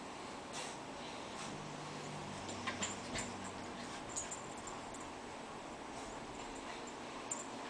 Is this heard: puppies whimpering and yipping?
yes